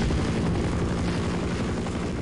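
Helicopter in the video game Half-Life, a steady low rotor drone with dense engine rumble holding close and loud throughout with no talk.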